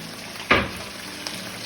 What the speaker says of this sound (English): So I'm just adding in the onions and the tomatoes.